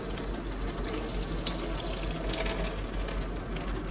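Water drains steadily from a five-stage reverse osmosis drinking filter system, a continuous close splashing rush like an open tap that runs without pause and with no voices.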